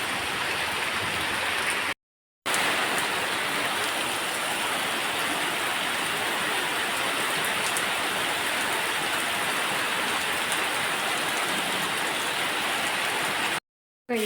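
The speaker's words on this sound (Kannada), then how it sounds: "ಮಳೆ ಬರ್ತಾ ಉಂಟು, ಸಂಜೆ ಆಯಿತು." Steady evening rain pours outdoors in a continuous, even hiss. The sound drops out briefly twice, and no one speaks.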